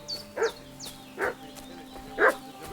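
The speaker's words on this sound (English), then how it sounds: "What's that dog making such a fuss about?" A dog in the medieval game Kingdom Come: Deliverance II barking three times at steady intervals, mid-distance and fairly loud, over a low ambient hum with chirping birds and no talk.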